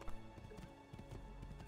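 Quiet rhythmic clip-clop of horse hooves in Assassin's Creed II, a steady trotting pattern with no talking.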